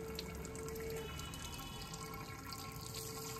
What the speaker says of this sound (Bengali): এ পাইপ কোথায় পেলি তুই? হ্যাঁ কি হচ্ছে, জল ছাড়ছিস কেন?